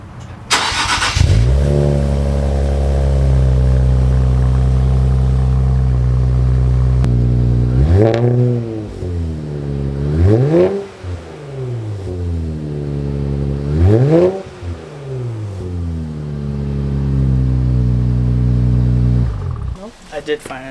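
A 2018 Infiniti Q60 engine with a newly installed AAM downpipe and an exhaust leak cranks and catches, settles into a loud idle, then revs up and down several times in strong sweeping bursts before shutting off.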